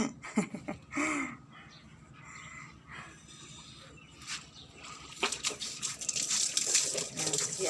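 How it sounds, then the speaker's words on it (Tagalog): Water from a garden hose sprays and splashes in uneven bursts while rinsing out floodwater, louder hissing gushes arriving toward the end, with faint background sounds between them. "Ngayon naman siyang hose dito."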